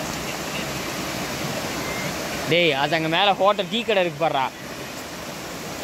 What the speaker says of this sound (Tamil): ஆத்துக்கடை வாட்டர் ஃபால்ஸ்ன்னு நினைக்கிறேங்க